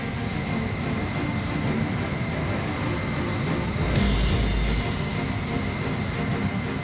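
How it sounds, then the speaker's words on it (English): F-14A jet fighter banking into a turn in the video game Ace Combat Infinity, a steady loud engine roar with a brief surge of rushing wind partway through, no voices. "Try turning your aircraft to the right."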